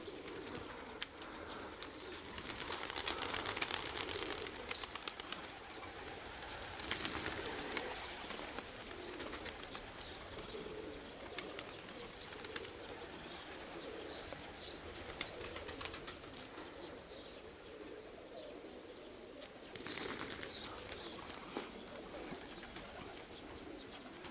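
Pigeons coo softly in a loft, their low murmuring calls repeating over a steady outdoor background, with occasional brief flutters of wings. Chirps are mixed in, and no one speaks.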